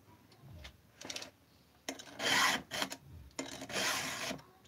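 Hand file rasping across metal in several separate swipes, short scraping strokes that grow longer and louder toward the end, heard close with no talking.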